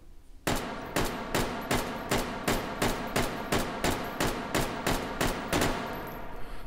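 An AUG bullpup rifle fires fully automatic in a VR shooter: a steady, evenly spaced string of about fourteen loud, sharp shots, close and unbroken for several seconds after a brief quiet start.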